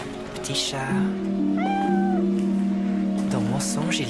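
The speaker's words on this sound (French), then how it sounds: "Minouche, petit chat." Puss in Boots, the fairy-tale cat, gives a drawn-out, rising and falling meow in an animated Grimm tale, heard over steady sustained tones and other sound.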